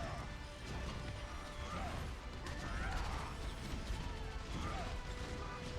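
In an esports Overwatch finals match, Reinhardt charges and pins an enemy, then slams down Earthshatter: dense clattering mechanical crashes and impacts layered over a constant loud roar of game effects.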